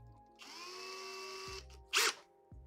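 A handheld power drill spins up to twist wire for wire-wrapped earrings, whirring steadily for about a second before stopping, followed by a short sharp burst of noise and a click.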